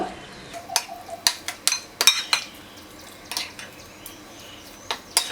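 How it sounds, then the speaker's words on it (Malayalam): Short scraping and clinking strokes against a bowl as flour dough is mixed with hot water, irregular and fairly close, with quiet gaps between them. "അപ്പം ആദ്യം ഇതിങ്ങനെ ഒന്ന് മിക്സ് ചെയ്ത് വെക്കുക"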